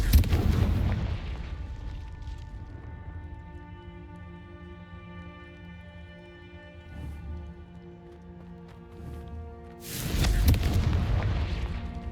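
Confringo explosion spell in the Hogwarts Legacy video game: a heavy booming blast opens, then a long ringing tonal decay, and a second loud burst erupts near the end.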